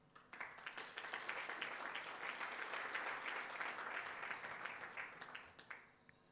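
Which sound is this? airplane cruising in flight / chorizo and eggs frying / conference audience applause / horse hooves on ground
conference audience applause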